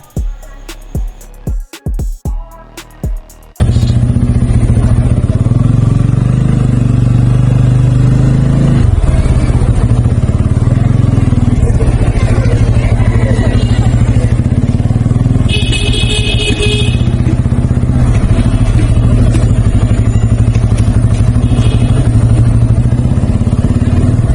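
A motorcycle is ridden into a garage parking area at T Badh in Rajshahi, its engine idling loud and close with a steady low rumble and occasional clatter, after a few brief choppy bursts at the start.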